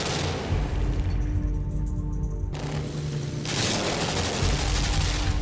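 A gunshot in the video game Limbo: a loud, harsh burst that cuts out to near-quiet, then a second heavy blast that rings on to the end over a low, droning background.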